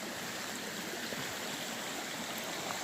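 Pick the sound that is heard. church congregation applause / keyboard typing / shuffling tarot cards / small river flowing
small river flowing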